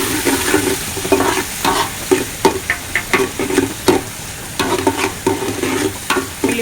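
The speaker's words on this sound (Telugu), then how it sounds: "పచ్చిమిర్చి ఉల్లిపాయలు మగ్గాలి." Onions and green chillies frying in a pan for a Telangana-style chicken tomato curry, steady sizzle with repeated rhythmic stirring scrapes, close and alone.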